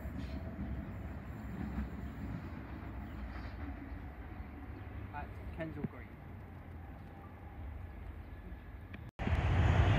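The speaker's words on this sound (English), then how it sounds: "Arriving now to London Overground train to Watford Junction." A London Overground train to Watford Junction rumbles steadily nearby as it arrives at Kensal Green station, with a brief metallic squeal midway, then a sudden louder clatter near the end; faint voices sit under the noise.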